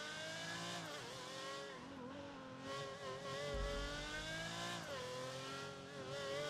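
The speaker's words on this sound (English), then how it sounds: "My car is so loud because I'm so amazing." A loud car engine in the GTA V NoPixel roleplay game roars continuously up close, its pitch swooping up and down as the throttle shifts, with a brief low rumble partway through.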